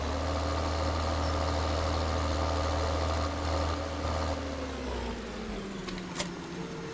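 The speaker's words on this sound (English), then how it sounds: "so this is our tractor" Tractor engine idling in Farming Simulator 2013, a steady low droning hum that holds evenly throughout, fading slightly in the last couple of seconds.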